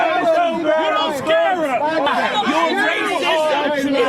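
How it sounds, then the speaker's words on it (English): Dueling crowds of protesters gathered outside a murder trial, a dense, steady babble of many overlapping voices shouting and chattering together, loud and close with no pauses. "With dueling crowds on both sides making their voices heard"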